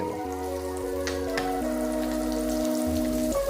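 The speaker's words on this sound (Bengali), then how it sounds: "মাছটাকে আমি দুভাবে ভেজে নিচ্ছি" Rohu fish pieces fry in oil in a pan, giving a steady crackling sizzle that runs through the whole short stretch beneath a sustained tonal background.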